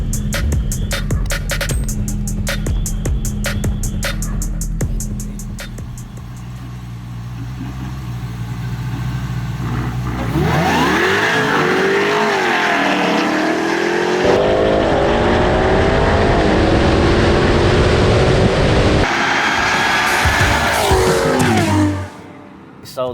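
In a drag race from a dead stop, a 1100HP Jeep Trackhawk and a 730HP Ferrari FF accelerate hard. Engines idle with a buzzing drone, then roar loudly with rising, shifting pitch for about ten seconds before cutting off.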